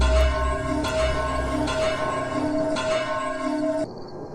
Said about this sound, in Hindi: 9 बजने से पहले ही घंटा बज गया।